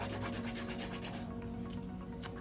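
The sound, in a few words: hand filing acrylic nail with 100 grit file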